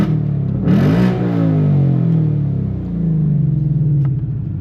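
A 2024 Mustang GT with a Steeda H-pipe, its exhaust set to track mode, revs up close and loud in a deep, rising burble, then holds and settles back to a rumbling idle.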